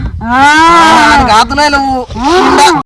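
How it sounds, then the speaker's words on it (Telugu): A ram calls in a village setting, a loud, sustained bleating cry with a wavering tone, two long calls separated by a brief gap, close and clear. "పొట్టేలు"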